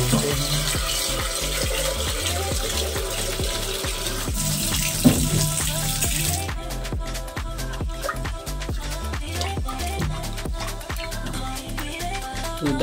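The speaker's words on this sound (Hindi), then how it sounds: "तब तक हम दाल धोएंगे" Running water splashes steadily from a tap while lentils are swished and rinsed in a pressure cooker, with occasional clinks and a continuous wet rush throughout.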